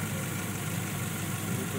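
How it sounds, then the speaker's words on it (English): Radiator cooling fans on a 1997–2001 Honda CR-V whir in a steady, loud broadband rush over the engine held near 2500 rpm, continuous without breaks. "Our fans kicked in."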